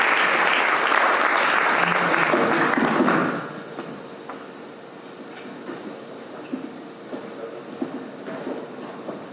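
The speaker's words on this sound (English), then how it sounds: "can I ask you to thank them all with a round of applause to show your appreciation" An audience at a healthcare leadership event applauds the departing panel members, loud and dense for about three seconds before fading out. Scattered taps and shuffles from the room follow.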